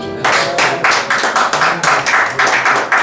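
A church congregation clapping together in a steady rhythmic beat, loud, close and even, roughly two claps per second with nothing else over it.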